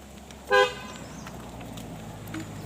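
A car on a road near a homestay gives one short, loud toot of its horn, followed by a quiet stretch of faint engine and outdoor background.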